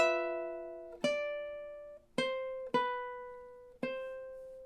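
Ukulele picking measure 34 of a song: five clear, close plucked notes and chords in a steady rhythm, each ringing and decaying, played alone.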